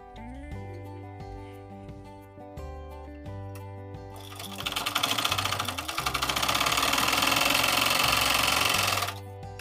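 A sewing machine stitches a puff sleeve, its rapid, steady mechanical whir starting about halfway through and running loud to near the end over continuous background music.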